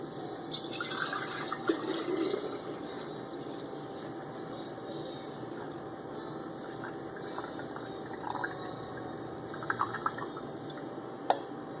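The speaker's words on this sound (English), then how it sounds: "I'm just gonna take my canning funnel to help with the pouring" Bone broth pours through a canning funnel into a jar as a faint, steady trickle with occasional drips and small clinks, close by, in a quiet kitchen.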